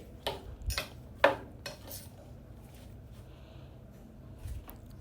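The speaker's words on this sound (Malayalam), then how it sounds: "എന്നിട്ട് സ്പൂൺ കൊണ്ട് നന്നായിട്ട് മിക്സ് ചെയ്ത് അത് യോജിപ്പിക്കുക." A spoon mixes okra with rice flour and besan masala in a bowl, sounding as a few sharp clinks and scrapes against the dish early on, then quieter stirring.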